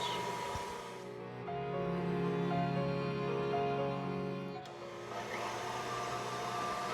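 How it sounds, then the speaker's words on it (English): Electric stand mixer whipping Italian-method macaron meringue at medium speed, a steady close whirring hum with a slight pitch change partway through, no voices. "going to start mixing it on a medium speed"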